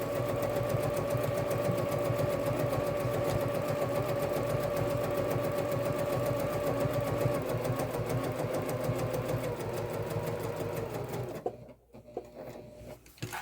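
A sewing machine stitches a pocket on a messenger bag with a short stitch length, a rapid, steady mechanical chatter close by that runs continuously before slowing and stopping into a few brief clicks.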